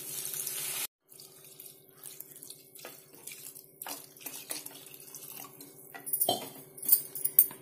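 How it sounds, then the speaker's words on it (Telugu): Water is poured into a pan of softened fried tomatoes and split moong dal with fenugreek leaves, with close splashing and a few metallic clinks of the vessel. "ఇప్పుడు దీంట్లో మనం కావలసిన నీళ్లు పోద్దామండి"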